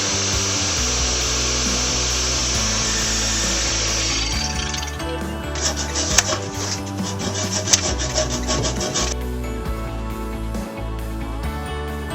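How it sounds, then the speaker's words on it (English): A copper pipe is cut during a laundry tub plumbing job, giving a continuous rasping, rubbing bite of the cutting tool that runs loud and steady for several seconds, alone with no talk. "this is copper and we're going to take this U here anyways, so I'm just going to cut it right here"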